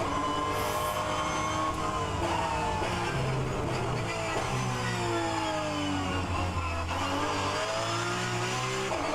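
A Porsche 911 GT3 Cup (992) engine in the racing game rFactor 2 at Laguna Seca. It revs loud and continuous, rising and falling in pitch through gear changes, with a high whine over the engine note.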